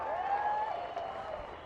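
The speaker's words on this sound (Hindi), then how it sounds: "ताली तो बजा दो।" An audience at a public event in Pune, Maharashtra claps steadily for about two seconds, with a few sustained whistle-like tones ringing above the dense applause.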